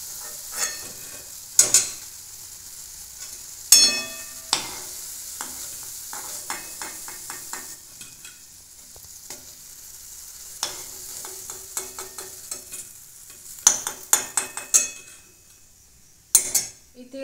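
Cabbage koftas frying in oil as they are lifted from the pan, soft crackling under repeated ladle scrapes and metallic clinks against the pan, close by with busy bursts of clatter and no speech.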